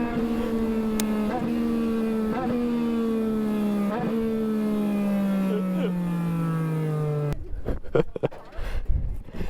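A Legends race car engine at Thompson Motorsports Park on the last lap to the finish line, a loud close droning buzz holding steady with small dips at shifts, then cutting to rough wind and rumble near the end.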